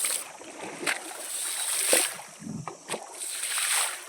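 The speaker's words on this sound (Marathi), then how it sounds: "पाण्याचा आवाज" River water sloshing and splashing against a moving boat, with intermittent splashes over a constant rushing background.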